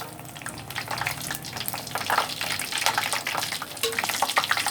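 Dried red chilies frying in hot oil alongside cinnamon and cloves for a Nellai-style oil curry, giving a steady crackling sizzle with bright spattering bursts, close and moderate in level, no voices.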